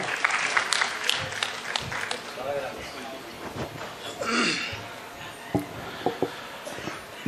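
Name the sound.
audience applause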